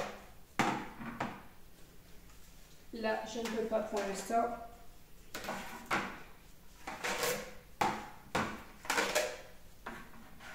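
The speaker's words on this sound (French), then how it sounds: "je vais m'attaquer tout simplement aux assiettes rouges. Je vais en mettre une devant chaque chaise." Red plates being set one by one on a wooden Christmas table, a run of short, close clacks and knocks at uneven intervals, with someone speaking French between some of them.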